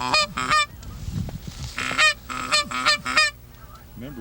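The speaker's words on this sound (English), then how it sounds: "We've got some geese out here in front." A flock of geese honking over a corn field, loud repeated nasal honks in quick clusters from several birds, close and clear with short pauses between calls.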